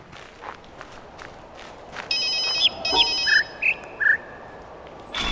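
A cell phone rings out in a live audience during a speedrun event, a shrill electronic ringtone in short repeated bursts lasting a few seconds over steady room murmur.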